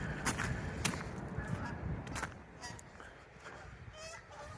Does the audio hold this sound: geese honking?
yes